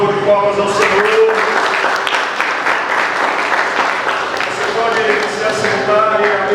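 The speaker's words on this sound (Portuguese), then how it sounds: "Vamos dar um pouco de palmas ao Senhor." A church congregation applauds steadily during a service, dense continuous clapping at even loudness with voices audible underneath.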